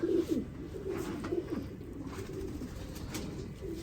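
Fakir Gul breeder pair pigeons cooing close by in repeated soft, throaty rolls, steady over a low background hum with no talk.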